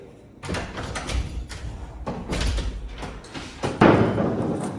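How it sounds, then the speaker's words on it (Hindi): A door being opened in a newly moved-into home, with a series of wooden thumps and knocks spread through the clip and a louder bang near the end. "थोड़ा इस तरफ करो ना इसको, ये सही है, सही है, खुलेगा दरवाज़ा सही"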